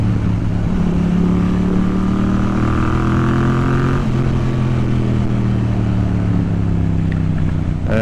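Yamaha MT-07 motorcycle engine revving loudly and continuously up close, with a steady harmonic drone that climbs and then eases slightly midway, no voices present.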